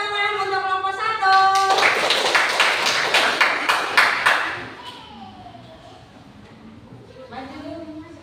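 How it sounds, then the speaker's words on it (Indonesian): Students in a science classroom applaud a presenting group, a steady burst of close hand clapping lasting roughly three seconds before it dies away and a teacher's voice continues. "Berikan tepuk tangan untuk kelompok 1"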